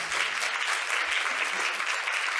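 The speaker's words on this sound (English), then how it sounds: "please give a round of applause for my team" Audience applause at a panel event on politics and women breaking glass ceilings, dense continuous clapping from a sizeable crowd, loud and even throughout.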